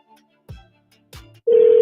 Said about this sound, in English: Oh, it's ringing. The phone's ringing.